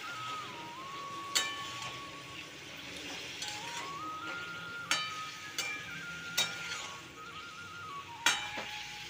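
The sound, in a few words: cauliflower and potato stir-frying with salt and turmeric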